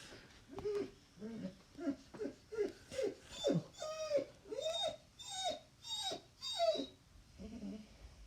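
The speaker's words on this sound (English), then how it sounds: "on that note of my dog whining" A dog whines repeatedly nearby, a series of about a dozen rising, plaintive whimpers in steady rhythm, moderately quiet in an otherwise calm room.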